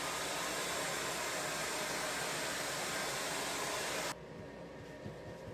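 A hair dryer blows steadily to dry thick paint on a giant wooden pumpkin, a loud continuous broadband whoosh that cuts off abruptly near the end, leaving a quieter room hiss.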